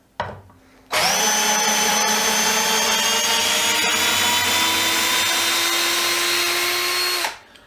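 A DeWalt DCD710 cordless drill driver drives a screw in one continuous whining run of about six seconds, its motor pitch held steady and loud up close before it stops abruptly.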